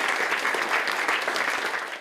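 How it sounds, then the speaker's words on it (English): A crowd outside Downing Street applauds as the new prime minister arrives, a dense, sustained round of clapping close by. "Liz Truss swept in on a wave of applause in her first hours on the job"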